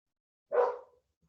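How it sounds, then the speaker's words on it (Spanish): A single sharp bark from one of two excited pet dogs indoors, loud and close, cutting off quickly with no other voices. "if you hear my dogs. They are barking right now"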